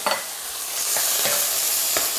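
Seasoned pork stir-fries with chilies and garlic in a hot iron wok, giving a loud, continuous sizzle. Spatula scrapes and tosses come through at irregular intervals, close up.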